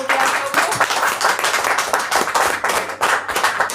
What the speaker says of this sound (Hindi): मैं चाहती हूँ यशोदा के लिए जोरदार तालियां होनी चाहिए।